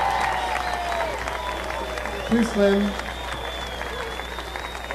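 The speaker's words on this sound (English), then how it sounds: "as you leave the stage to tumultuous applause Yeah. from the crowd" Audience applause and crowd noise at a Riders in the Sky western music concert as children leave the stage, a steady clapping wash heard under someone speaking to the crowd.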